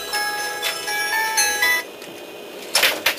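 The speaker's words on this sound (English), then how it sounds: "It's my cell phone." A cell phone rings beside a plastic model workbench. It gives a bright, chiming tone in two bursts, the second arriving after a short pause, fairly loud and with no talk over it.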